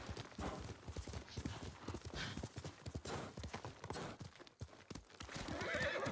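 A horse gallops with rapid, heavy hoofbeats in the samurai game Ghost of Tsushima, the pounding rhythm close and continuous, broken by a whinny and ending in a louder rush of movement.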